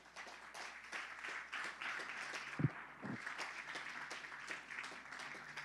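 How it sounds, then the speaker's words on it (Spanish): Church congregation applauding during a Spanish-language sermon, steady clapping from many hands filling the room for several seconds, with a couple of louder low thumps partway through. "Un aplauso al Señor."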